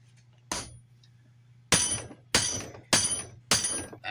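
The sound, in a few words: hammering on trailer wheel bearing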